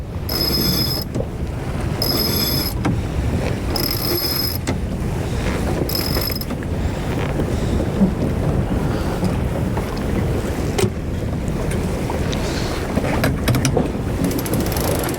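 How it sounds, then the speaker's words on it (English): A genoa is unfurled on a sailboat on a beam reach: lines creak and a winch or furler clicks in short repeated bursts, all under constant loud wind buffeting and rushing water. "Amy's pulling out the Genoa"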